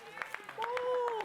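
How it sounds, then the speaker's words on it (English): A golf tournament crowd erupts in cheers and scattered claps for a brief moment, with a voice rising over the noise. "Pandemonium in the crowd."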